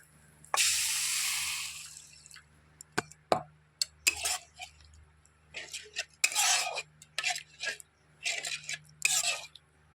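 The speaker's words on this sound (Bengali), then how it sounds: "নারকেল ভাজা হয়ে আসছে" Grated coconut frying in milk in a pan for a sweet kheer filling, with a long soft hiss followed by repeated scraping and clinking strokes of a spoon against the pan, close and moderately loud.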